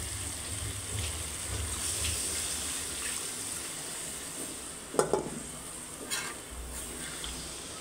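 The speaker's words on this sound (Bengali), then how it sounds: "এখন পানি দিয়ে দেব।" A frying pan sizzling steadily while cooking, then water poured in causing a burst of splashing and louder hiss with a couple of clanks, close and without talk.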